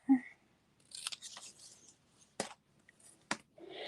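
Scissors cutting paper or card while a Valentine nugget treat box is being made: a few sharp, close snips separated by quiet pauses.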